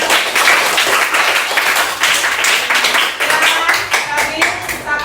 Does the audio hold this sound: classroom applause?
yes